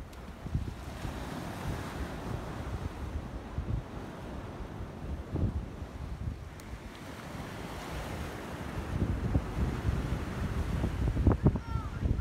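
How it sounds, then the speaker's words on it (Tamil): Large winter waves breaking on Millendreath Beach in Cornwall, a continuous rolling surf roar with heavy wind buffeting the microphone, swelling louder toward the end. "அங்கேயும் வந்து வேவ்ஸ்லாம் பார்த்தீங்கன்னா ரொம்ப பெரிய பெரிய வேவ்ஸாக இருந்தது."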